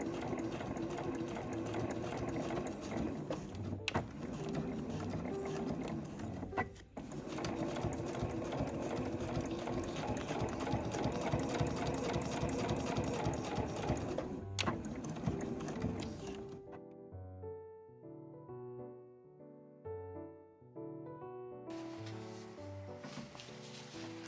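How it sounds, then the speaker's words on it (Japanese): A home sewing machine backstitches through heavy canvas on a tote bag, a steady fast mechanical whir with brief pauses. Then it stops and soft handling noises follow. "ここも返し縫いをします。"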